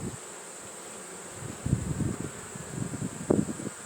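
Honeybees in a queenless hive buzz softly and continuously, with louder close passes of individual bees rising over a faint background drone.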